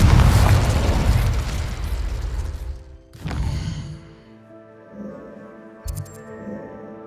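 Confringo explosion spell cast in the Hogwarts Legacy video game, a loud rumbling boom that fades, a second sharp burst, then lingering tonal magical shimmer and a small pop.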